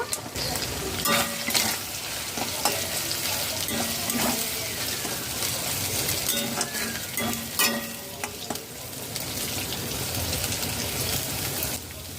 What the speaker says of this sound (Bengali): মিডিয়াম ফ্লেমে চিংড়ি দু মিনিট ভেজে নিয়েছি